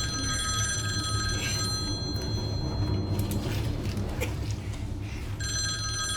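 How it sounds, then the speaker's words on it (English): A telephone rings with a repeated electronic bell trill, heard in bursts at the start and end over a low, steady background hum. "At that moment, the phone suddenly rang."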